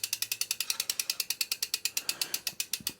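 Bicycle wheel on a bike fitted with Hope hydraulic disc brakes spinning freely, its freehub ticking in a fast, even run of close, crisp clicks that slow slightly toward the end, with no talking.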